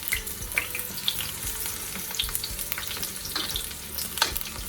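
Green tomato fritters fry in hot oil in a home kitchen, three at a time, browning on each side. The sizzle and crackle are close and steady, with small pops scattered through it and no one speaking.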